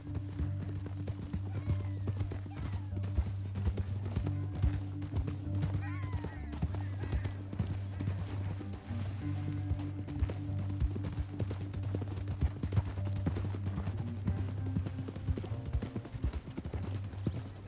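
Horse hooves clip-clop in a rapid, continuous rhythm across the ground in Red Dead Redemption 2, riding under a low droning game music bed, with occasional brief voices and sharper sounds mixed in.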